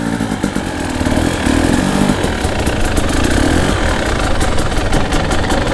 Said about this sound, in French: on monte sur la moto et on la démarre